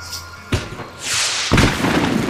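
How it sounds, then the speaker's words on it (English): Fireworks burst in the Max Payne 3 video game, a few sharp thuds followed by crackling, hissing explosions that swell loudly toward the end, with no voices. "The fireworks display was clearly in my honor, making sure everyone knew to roll out the red carpet for their surprise guest."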